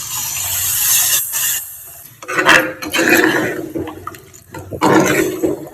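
Water splashes and pours into a curry pan in a few uneven bursts, close by, with a hissing rush between pauses.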